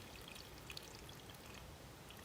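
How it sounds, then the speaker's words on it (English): Red wine vinegar pours through a funnel into a small bottle, a faint, steady trickling stream with a few soft drips. "I'm just going to pour my nice fragrant red wine vinegar"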